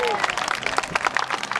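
Audience clapping and cheering for people lifting a trebuchet's 5.5-ton counterweight, a dense patter of applause with a voice speaking over it.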